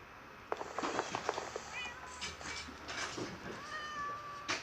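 A cat meows several times in Minecraft, short clear calls in a brisk series with game sounds around them and no talk.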